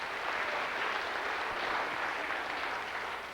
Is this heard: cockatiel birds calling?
no